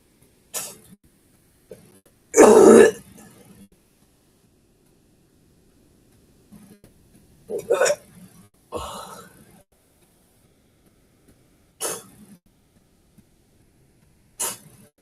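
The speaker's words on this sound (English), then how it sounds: "When I cough up those nasty fucking cookies I ate" Several sharp coughs spaced out over time, one loud harsh burst followed by smaller coughs and throat-clearing sounds, close up in a quiet room.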